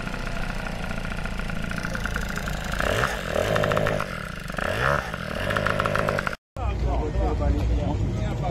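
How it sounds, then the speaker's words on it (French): A moped engine runs steadily at a buzzing idle close by, holding a constant rough drone throughout with brief revs and a short cut, at a motorbike meet outdoors. "Ton moteur il tourne encore."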